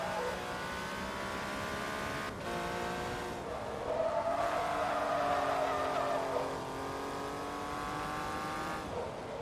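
A race car in Forza Motorsport 2 holds a steady engine drone with harmonic whine, rising to a louder rev around the middle before settling back, continuous and close with no talk.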